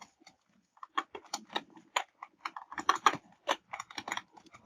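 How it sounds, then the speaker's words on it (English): Typing a tag name on a computer keyboard, a run of quick uneven keystrokes with short pauses between bursts, close and clear with no talking. "Type here tag name."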